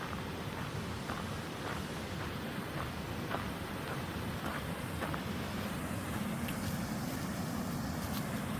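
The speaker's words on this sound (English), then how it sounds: "that didn't take long to get to the waterfall" Steady broadband rush of a waterfall pouring into a pool along a creek, constant and fairly loud, with no voices.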